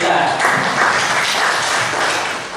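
Classroom applause for a classmate, a short burst of loud, close clapping from a group of students, fading slightly at the end.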